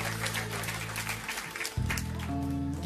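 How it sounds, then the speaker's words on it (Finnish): A congregation claps in a continuous ripple of applause through a church gathering, with a steady band of organ or keyboard tones sustained underneath. "Annetaan Herralle aplodit."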